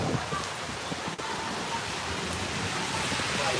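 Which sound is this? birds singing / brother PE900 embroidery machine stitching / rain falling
rain falling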